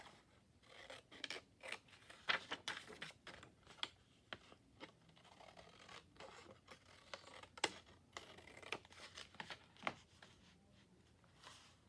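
Scissors snip repeatedly through a yellow paper section, producing a quick series of crisp, close cuts and rustles with brief pauses, no speech.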